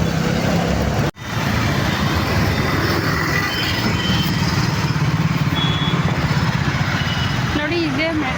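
A metro train rumbles by in a continuous loud wash of rail and wheel noise with a sharp brief knock early on, surrounding street vehicles blending in and faint voices beneath.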